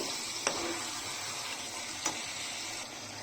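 Chicken curry sautéing in a pan, salt just mixed in, gives a steady, soft sizzle with a couple of faint scrape clicks from stirring, no voices.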